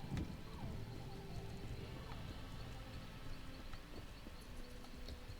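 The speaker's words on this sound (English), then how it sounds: "let's call the horse" Horse hooves clip-clop in the Elder Scrolls Online video game, a faint, steady trotting rhythm in the background with a soft ambient hum and no clear talk.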